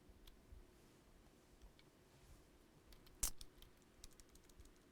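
Someone types on a computer keyboard, giving soft, irregular key clicks with one sharper tap partway through, faint and close with a low hum in the background and no talk.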